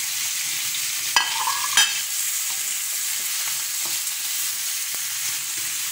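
Ginger sizzles steadily in hot oil in a pan while cooking chicken feet adobo with tausi, with a couple of brief stirring scrapes near the start, loud and continuous with no talking.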